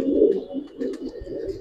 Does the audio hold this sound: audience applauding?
no